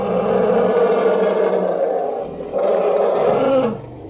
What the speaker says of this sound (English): We realize that we need an elephant roar that maintains a high intensity over time.